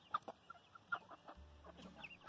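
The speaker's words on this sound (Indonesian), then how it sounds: "Ayam." A chicken clucks in short bursts at close range, with a few soft background noises and a low hum partway through.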